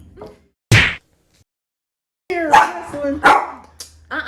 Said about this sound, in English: Now he can't be barking.